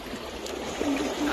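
Cold stream water trickles and flows out from under bushes, a soft, continuous babble heard close and faint.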